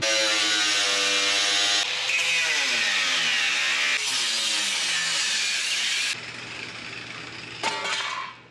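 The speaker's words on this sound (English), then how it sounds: "All I have to do is cut along the lines and it should fit close enough." A power saw cutting metal along marked lines for an off-road hot rod, a loud continuous whining rasp whose pitch shifts as the blade moves, stopping and restarting a few times before trailing off, no talk.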